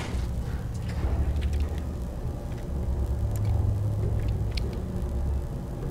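Steady low mechanical rumble of a running elevator in the video game Fallout 4, droning evenly throughout with faint scattered clicks above it.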